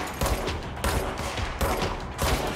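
Gunfire in the video game Control, fired at an enemy: loud, close bursts of shots in a rapid, repeated rhythm, three or four sharp volleys in quick succession with no talking.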